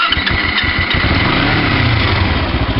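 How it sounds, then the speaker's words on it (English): A motorcycle engine started with the ignition button cranks with a few quick pulses, then catches and settles into a loud, steady running rumble close up, with no voices. "So you can hear the bike turning over now."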